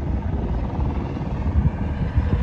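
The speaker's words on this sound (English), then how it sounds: "a chopper just landed right above the mangroves" A helicopter landing beyond the mangroves near shallow water where people fish from a skimmer skiff, a loud steady rotor and engine rumble filling the air, heavy and continuous with no talk.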